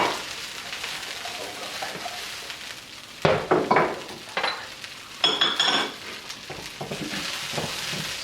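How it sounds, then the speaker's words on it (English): Broccoli tossed in oil with ginger and garlic sizzles steadily in a pan on medium heat, broken by a few louder stirring scrapes and clinks of a utensil against the pan, with no talk. "So you want to toss it in the ginger and garlic and coat it"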